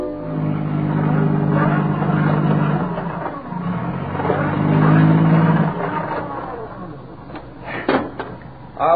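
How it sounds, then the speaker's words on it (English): A car's wheels spin while it sits stuck in a ditch, a loud, strained engine whine that rises and falls for several seconds before a few knocks at the end. "Your car wheels just keep spinning."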